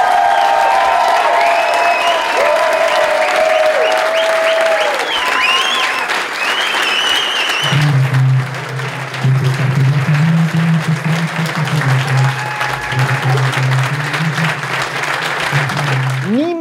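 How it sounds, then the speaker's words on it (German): An audience at a network marketing event applauds and cheers loudly for a speaker; the dense clapping fills the first half, then gives way to a low sustained tone and a voice as the clapping thins. "Gebt einfach unserem Emerald Director Silas Sette Ducati einen riesengroßen Applaus."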